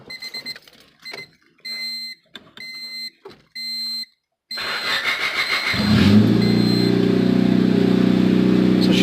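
A Honda Civic's engine cranks after a run of dashboard warning chimes, then catches and settles into a loud, steady idle up close.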